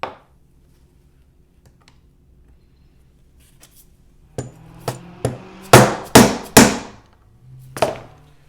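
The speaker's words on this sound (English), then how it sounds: "I'm just going to tap it on with a 1/2-inch socket" A 1/2-inch socket is hammered against the rear bearing carrier of an old air sander during repair: after about four quiet seconds come six sharp, close, metallic taps in an uneven rhythm, with no talking.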